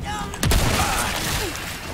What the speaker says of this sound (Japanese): このライオットガンの威力見てください